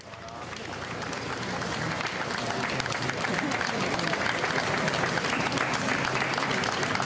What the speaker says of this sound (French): sa famille quittent les lieux sous les applaudissements